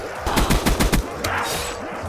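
Rapid automatic gunfire in a Call of Duty Black Ops 2 custom zombies map with Minecraft-style visuals, a loud burst of about six close shots in quick succession, followed by a single shot and fainter rumbling game noise.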